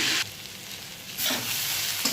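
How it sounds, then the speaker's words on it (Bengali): Vegetable chhechki is stirred and fried in a pan: loud sizzling bursts at the start and again later, with quieter frying and soft spatula scraping in between, no voices. "চলো ভালো করে একটু নেড়ে মিশিয়ে নিয়ে"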